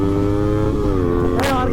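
Kawasaki ZX10R sport bikes run close by with a loud, buzzing engine drone that climbs briefly near the end.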